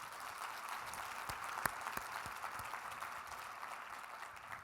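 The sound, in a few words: conference audience applause for CEP staff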